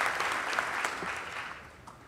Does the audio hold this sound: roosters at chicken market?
no